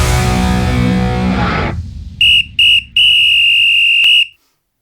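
A whistle shrills in three blasts, two short and one long, loud and close and alone after a sung passage fades out.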